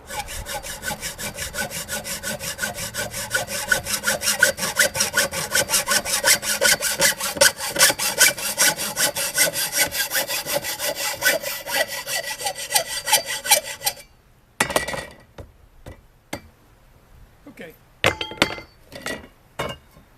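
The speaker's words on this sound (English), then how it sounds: "This hacksaw needs a new blade." A hacksaw with a worn blade cuts in fast, steady back-and-forth strokes for about fourteen seconds, then stops, followed by a few scattered clinks and knocks of handled metal.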